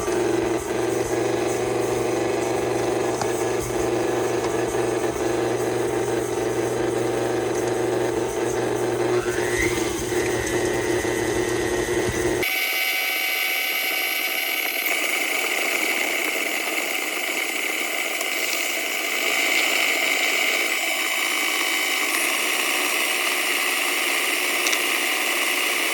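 An electric mixer creams sugar and butter for ginger molasses cookie dough, its motor running as a steady, continuous drone that abruptly shifts to a higher, thinner tone about halfway through, with no talking.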